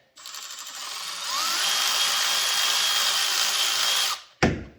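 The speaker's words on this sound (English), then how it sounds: "just going to use the electric impact" Electric impact wrench running on the turbo bolts of a 7.3L Powerstroke diesel, a close, steady high whine held for about four seconds before cutting off, followed by a short sharp clatter.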